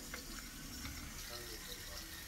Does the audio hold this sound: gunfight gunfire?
no